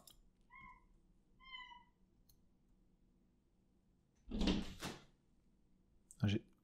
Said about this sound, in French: J'ai mon chat qui est en train de faire de la folie.